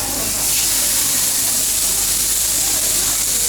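Meat sizzles on a Korean barbecue grill in a Korea Town restaurant in Bangkok, giving a loud, steady hiss that runs unbroken throughout.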